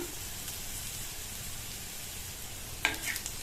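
Coconut mixture for beetroot poriyal sautéing in oil in a pan, a steady soft sizzle throughout with one sharp utensil scrape near the end.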